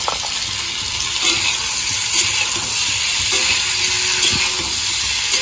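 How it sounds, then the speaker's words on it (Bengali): Steady sizzling and hiss of lentil vadas (bori) and tomato frying in a pan, with faint scraping from stirring, continuous and close, no voices. "এখন বড়ি আর টমেটো আস্তে আস্তে নাড়াচাড়া দিয়ে সেদ্ধ করে নিব"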